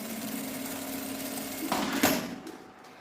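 A sewing machine runs a short line of stitching along a bag strap for a small structured case, a steady close hum that swells near the end, then stops with a few clicks.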